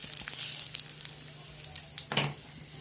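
Whole spices and chilli powder sizzle softly in a pan, a quiet crackle with a couple of brief stirring scrapes and a louder burst near the end, with no one talking.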